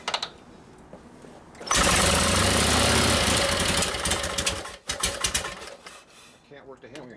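A rusty 1952 Harley-Davidson panhead FL with a Linkert carburetor and kick start catches and runs in a loud, rough burst for a few seconds, then sputters and cuts in and out, with voices nearby.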